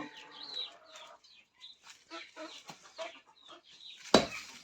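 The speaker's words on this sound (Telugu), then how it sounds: "ఇక్కడ మా దగ్గర కూడా కోళ్ళు అనేది నాటు కోళ్ళు అనేది ఉన్నాయి" Country chickens cluck and chirp repeatedly in short bursts close by in a village, with a sharp sudden clatter near the end.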